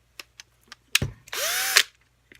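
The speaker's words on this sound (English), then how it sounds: "And I just run the drill." A power drill threads a plug in a short forward burst lasting about half a second. It is loud and close, with a rising and falling whine, and brief clicks and knocks come before and after it.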